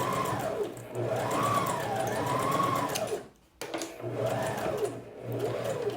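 Sewing machine stitching a French seam on a sleeve armhole, a close, steady whirring run with a brief stop and restart for a backstitch, then running again to the end.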